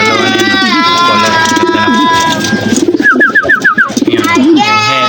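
Grizzle pigeons coo close by in repeated throaty, rolling calls, with overlapping birds and a brief burst of quicker warbling notes.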